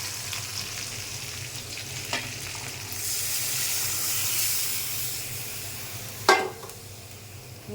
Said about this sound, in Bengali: আদা চামচ লবণ দিয়ে এটাকে ভেজে নিতে হবে।